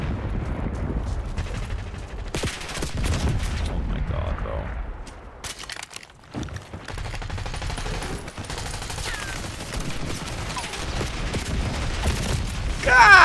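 Rapid automatic gunfire bursts from a Black Ops 6 shooter game, loud and continuous for much of the stretch with a brief lull, layered over players talking throughout.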